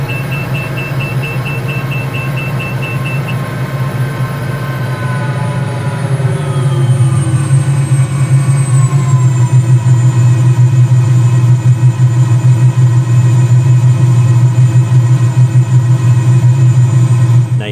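A Bell 206 helicopter engine in a flight simulator settles to idle, a steady low turbine hum with a whining tone that slides downward as the throttle rolls back, continuous and fairly loud with no talk.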